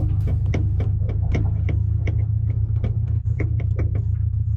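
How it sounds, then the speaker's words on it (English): A high-mileage car with worn sway bar links, its engine humming low and steady while repeated sharp clunks knock in an irregular rhythm, close up, no talk. "This car is making a clunky noise when I'm driving, and it's annoying."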